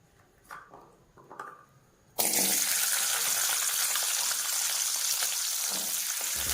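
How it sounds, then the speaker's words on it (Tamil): Small onions sizzle and fry loudly in a hot pan for radish chutney, a steady bright hiss starting abruptly after a few quiet clinks and continuing unbroken. "வெங்காயம் சேர்த்து வதக்கி காமிப்போம்"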